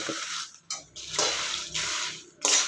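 Red chillies and spices dry-roasting over medium heat for sambar powder, stirred in a pan: several loud bursts of dry rustling and crackling with short quiet gaps between them, heard up close.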